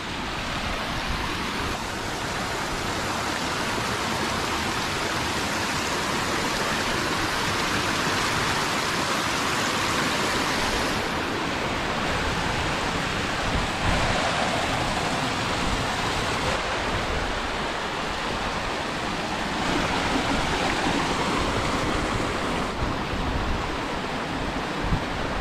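Very cold mountain stream water rushes continuously at Sonmarg in Kashmir, a loud, steady broadband roar of flowing water close by with no voices.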